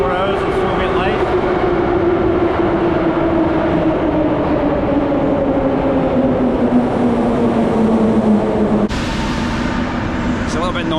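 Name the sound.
Moscow metro trains arriving and departing at Mayakovskaya station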